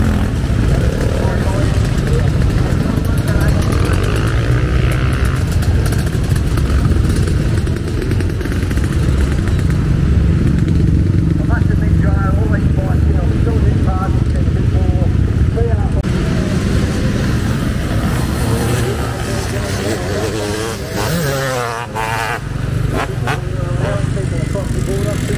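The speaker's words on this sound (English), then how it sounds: "Total bedlam, motorcycles in every direction." Many motorcycles ride and rev at a vintage motocross event, a continuous loud engine roar with clattering from near and far as people talk over it.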